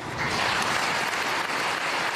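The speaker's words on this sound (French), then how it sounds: "Il applaudit." Steady, dense applause from a large crowd at a political party congress of En Marche, loud and continuous throughout with no voices standing out.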